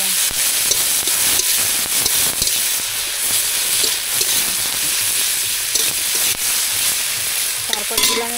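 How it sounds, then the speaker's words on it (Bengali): Garlic paste frying in hot oil for a snakehead fish curry, a loud, steady, dense sizzle with a few spatula scrapes running throughout, close up and without talk. "রসুন বাটা দিয়ে একটু ভালো করে"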